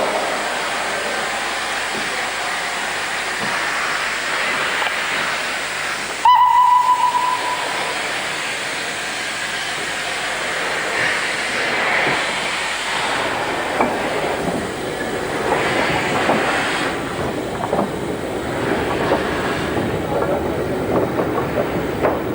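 Former North Eastern Railway 0-8-0 steam freight locomotive No. 901 moving off shed on a North Yorkshire moors railway: a loud, steady whistle blast about six seconds in, then rumbling, hissing steam and mechanical clanking as it gets under way.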